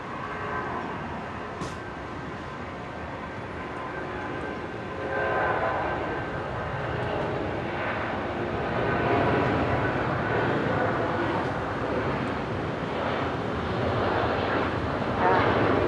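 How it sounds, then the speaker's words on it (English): An Airbus A400M military transport aircraft arrives at Brisbane airport, its engines a broad, steady roar that swells slightly and holds at a distance, with no voices. "A400s following very closely behind, next to arrive"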